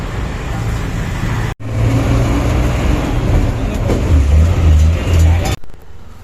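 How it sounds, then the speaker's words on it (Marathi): Heavy road traffic near a beach village, a steady loud roar of passing cars and larger vehicles with engine hum, briefly cut off twice, and some talk mixed in. "जाम ट्रॅफिक आहे"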